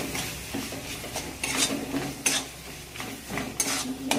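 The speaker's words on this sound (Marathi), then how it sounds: "याला मस्त असं हलवून घ्यायचं." A spoon stirs mutton biryani with chili, biryani masala and coriander powder in a pot, producing irregular scraping clinks and knocks against the metal, close and fairly loud.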